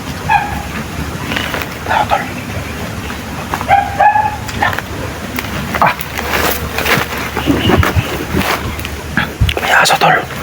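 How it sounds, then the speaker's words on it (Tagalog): Dog barking and yipping in short, repeated bursts at moderate distance, mixed with people talking and rustling movement throughout. "May aso tol."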